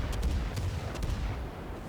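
Naval guns of the HMS Leander cruiser firing in World of Warships, a dense rumbling roll of low booms with a few sharper cracks, loud and continuous across the moment with no talk.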